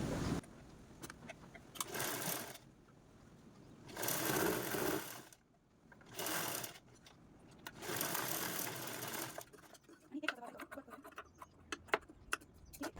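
A sewing machine stitches elastic onto a cloth edge in several quick bursts of rapid mechanical whirring, separated by short pauses and some light handling clicks, close and moderately quiet.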